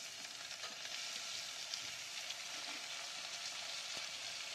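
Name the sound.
tomato frying in a pan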